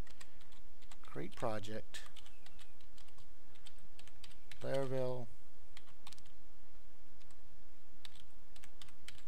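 A computer keyboard clatters with quick bursts of keystrokes as a command is typed, close and fairly quiet, with two short spoken phrases in between.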